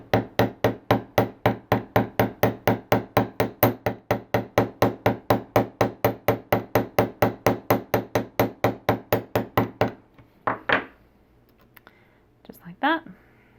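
Steady hammer blows flatten a wire earring loop against a bench block, struck through a hardwood wedge: about forty evenly spaced, close, sharp taps over ten seconds, then a pause and a couple of faint knocks.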